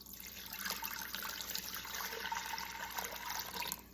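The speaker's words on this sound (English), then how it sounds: "So we're going to put some water in here." Water pours steadily from a container into an Instant Pot for vegetable soup, a continuous splashing trickle close by that runs evenly for a few seconds with no talking.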